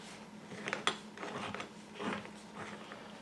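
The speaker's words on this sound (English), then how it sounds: "now we're going to loosen up our tension disc." Chainsaw with its side casing removed as the tension disc is loosened for chain replacement, giving a few close metallic clicks and ratcheting rubs over a steady low hum, quiet and brief.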